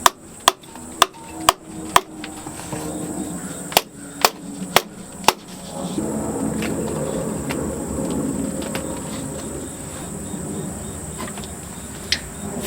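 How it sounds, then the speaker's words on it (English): A metal pry bar is knocked against an engine valve cover on an old barn-find van, giving a run of sharp, evenly spaced strikes. Scraping and rustling follow, with one more knock near the end. "Might need a little pry bar action here."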